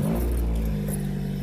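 A D16 car engine running close by, a steady low rumble with a slight rising rev across the short stretch, heard alone without any talk.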